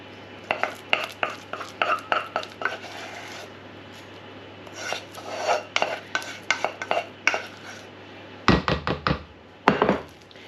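Mashed potato is spread across the bottom of a casserole dish with a utensil, giving repeated soft scraping strokes and light taps against the dish, close and fairly quiet, with a few sharper knocks near the end.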